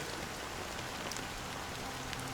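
Rain in the Penacony area of the video game Honkai: Star Rail falls as a soft, even hiss with faint scattered droplets, steady and low throughout.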